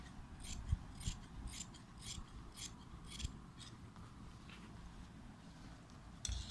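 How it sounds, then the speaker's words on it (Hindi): Scissors cut through shirt fabric along a marked cutting line for tailoring, a quiet series of short crisp snips in a steady, slightly uneven rhythm, close up with no talking. "तो हम कटिंग वाली लाइन को काट रहे हैं इस वक्त।"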